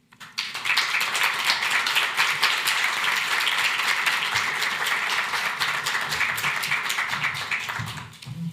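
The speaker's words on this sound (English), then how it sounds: "big applause to all of them" A conference audience applauds a panel, dense continuous clapping starting abruptly and holding steady for about eight seconds before tapering off at the end.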